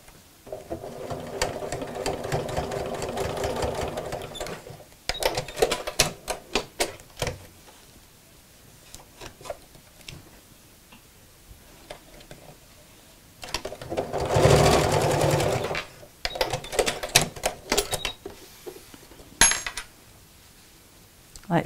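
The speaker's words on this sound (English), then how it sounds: "I'm just sewing within the seam allowance again, so quite close to the edge, just to hold those in place" A sewing machine stitches within the seam allowance of a backpack close to the edge, running in several steady bursts of rapid needle rattle separated by pauses and handling clatter, with a brief voice in between.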